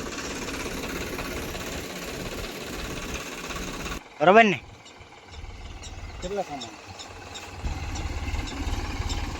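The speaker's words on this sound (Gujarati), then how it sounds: "હવે જાય છે ટ્રેક્ટર આપણે હવે દાંતી થાંભલો કરવા માટે" A farm tractor with a toothed harrow hitched on rumbles loudly for about four seconds, then the noise drops away; voices talk over a quieter, uneven engine drone that builds again toward the end.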